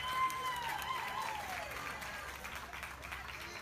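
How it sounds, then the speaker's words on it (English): A crowd at a youth swine market show applauds a champion heavyweight entry. The clapping is soft and somewhat distant, with a voice and a faint whistling tone over it. "Let's give her a nice round of applause."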